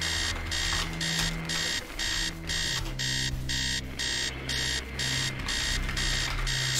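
Loud, insistent beeping from an alarm clock inside a house in the Stories Untold video game, rapid evenly spaced pulses sounding nonstop above a low ominous musical drone.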